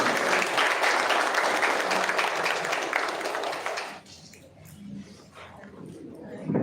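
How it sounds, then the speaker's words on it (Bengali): An audience at a community meeting on preventing trafficking of women and child marriage claps in loud, dense applause for about four seconds, then it quickly dies away into quieter room sound with some talk. "সবাই একটু করতালি দিয়ে অভিবাদন করা হয়"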